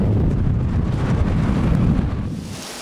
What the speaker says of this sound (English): A powerful storm blew through overnight.